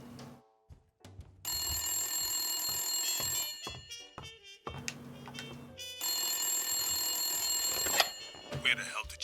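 A telephone rings in the Blacksad video game, two long bursts of bright electronic ringing separated by a pause, with faint clicks and background sounds between them.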